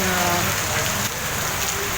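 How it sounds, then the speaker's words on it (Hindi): Steady rain falling and pattering on surfaces during a motorcycle ride on an Apache 160 2V, a dense continuous hiss with a faint voice underneath. "बारिश जो है अच्छी खासी दिख रही है।"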